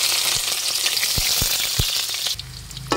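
Onion and garlic sauté in a hot pan with a loud, close sizzle and a few stirring knocks, which drops away sharply near the end.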